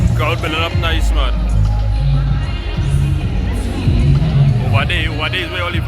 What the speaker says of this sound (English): Crowd building up nice, man.